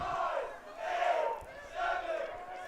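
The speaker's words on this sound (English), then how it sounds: "Might be able to hear the crowd chanting down the shot clock." Spectators at a varsity high school lacrosse game chant in unison, counting down the shot clock in three rising, rhythmic crowd swells heard from a distance.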